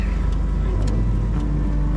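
A Willys Jeep engine runs steadily at low speed as it rolls down a hill with a first-time driver, a continuous close rumble with faint brief bumps and no talk.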